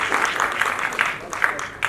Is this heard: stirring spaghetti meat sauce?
no